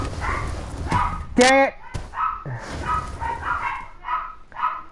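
Several wild pet dogs barking and yipping excitedly indoors at a visitor, loud sharp barks in bursts with a whine, while someone talks over them.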